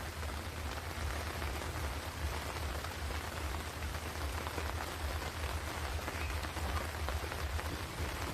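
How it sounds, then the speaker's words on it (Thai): Steady rain falls on surfaces around a campsite, a constant even hiss with a low rumble underneath, with no voices. "ตอนนี้ก็ฝนตกอยู่นะครับ"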